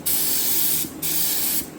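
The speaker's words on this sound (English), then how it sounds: "we're gonna test out the spray pattern again" A paint spray gun hisses out car paint in two steady, loud bursts while its spray pattern is tested, each a close continuous blast separated by a brief pause.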